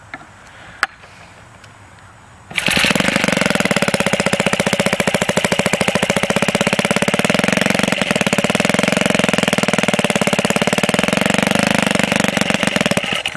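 An MEM stationary engine with a 7 to 1 compression ratio starts after a quiet stretch, then chugs loudly in a rapid, steady rhythm of firing pulses for about ten seconds.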